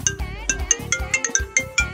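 A mobile phone ringtone plays loud and close, a repeating rhythmic melody of bright tonal pulses over a pulsing beat, with no talk over it.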